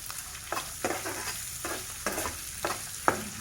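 Onions fry in a pan for a beetroot fry, a soft steady sizzle broken by about half a dozen scraping stirs of a spatula, close and fairly quiet.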